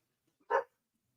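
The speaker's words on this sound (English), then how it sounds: "Now I have barking dogs" A dog gives one short, sharp bark, close and fairly loud, with quiet before and after.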